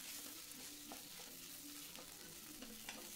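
Cauliflower leaf paste fried and stirred in a pan, giving a steady low sizzle with occasional soft scrapes of the spatula throughout, fairly quiet and close.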